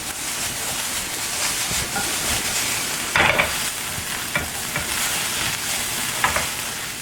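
Green beans with balsamic vinegar, salt and pepper sizzle steadily in a hot pan, and several sharp scraping and rattling tosses break through the constant frying hiss.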